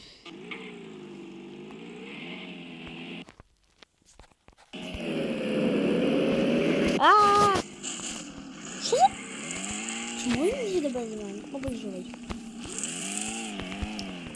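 A Nissan Silvia S13 in a racing game, engine note rising and falling through gear changes, steady and close with a few sharp tire or collision noises.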